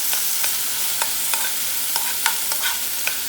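A spoon stirs peppers, garlic and onions frying in a pan for beef pasta, scraping in regular strokes over a constant close sizzle.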